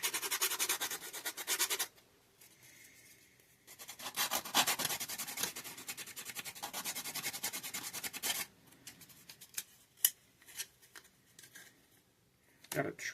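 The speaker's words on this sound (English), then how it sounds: "Just gently sand down the imperfection I made" Sanding imperfections off the plastic body of a 1965 Barracuda Richard Petty model car: loud, steady close-up rasping strokes for about two seconds, a quieter pause, then a long run of fast rubbing before softer scattered scrapes and taps.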